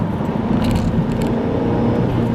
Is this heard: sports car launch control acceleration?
yes